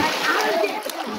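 People bathing in a village mosque pond, splashing and sloshing water close by, with voices talking over the brief splashes.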